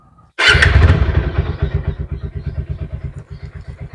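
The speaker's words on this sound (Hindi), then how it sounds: "सेल्फ में स्टार्ट हो रही है गाड़ी" A secondhand motorcycle starts on its electric self-starter with a brief crank, then catches and settles into a steady, loud, close-up thumping idle.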